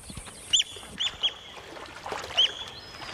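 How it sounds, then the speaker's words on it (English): White-crowned plover calling beside a drying river pool, several sharp, high piping calls spaced irregularly over quiet background noise, with no talking. "These impala have run afoul of a white-crowned plover"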